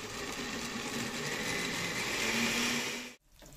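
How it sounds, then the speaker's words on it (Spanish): A blender grinds spices for mole, a loud steady whirring motor drone that cuts off abruptly near the end. "Vamos a moler las especias."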